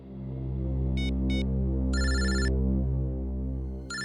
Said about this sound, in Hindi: ऑफिस से फोन